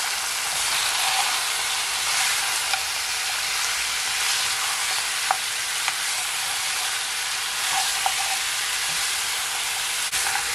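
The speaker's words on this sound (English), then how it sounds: "I'm gonna leave it just to fry it for at least 3 minutes" Jamaican stewed goat meat fries in a pot, giving a steady, close hiss and sizzle with faint crackles and occasional pops throughout.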